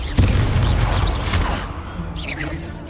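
An Incendio fire spell cast in Hogwarts Legacy, a sharp burst followed by loud crackling, roaring flame and booming impacts that fade into softer whooshing magical effects.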